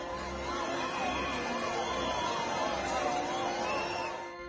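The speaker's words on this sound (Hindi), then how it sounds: "जैसे ही भगदड़ जैसे हालात पैदा होते हैं तो सायरन की आवाज गूंजने लगती है।" Emergency vehicle sirens wail with repeated rising and falling sweeps over the dense murmur of a large crowd at the 2025 Jagannath Rath Yatra during a stampede-like crush. Loud and continuous, with voices mixed in the background.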